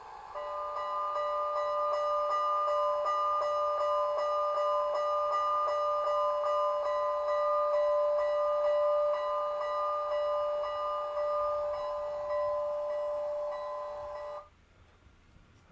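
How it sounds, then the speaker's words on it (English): A DCC sound decoder in a Bachmann G-scale 2-4-2T locomotive rings its bell in a steady, evenly repeated clang for about fourteen seconds before cutting off abruptly. "Alright, so that was a different bell sound."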